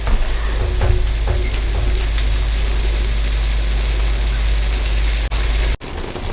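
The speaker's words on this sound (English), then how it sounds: "So now the meat is pretty well browned." Ground meat browning for cowboy chili sizzles steadily in a pot, a dense continuous crackle with a few light stirring clicks and a brief break near the end.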